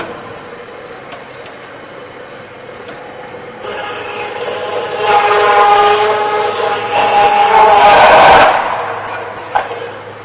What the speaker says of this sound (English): We use flying cutting saw to non-stop cutting to increase the speed of production.